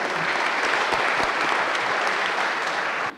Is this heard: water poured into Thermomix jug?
no